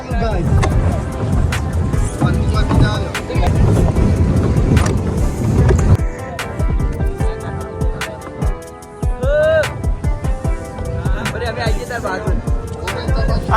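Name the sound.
boat ride on water with wind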